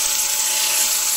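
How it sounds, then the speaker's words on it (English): A loud, steady abrasive whir of sanding against the outside of a wooden bowl, continuous and close, with no pauses. "Do a little bit of sanding on the outside."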